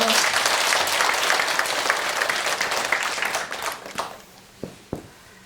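An audience at a special lecture at Daegwaneumsa temple in Ulsan breaks into dense applause that holds for about four seconds, then thins out to a few last scattered claps.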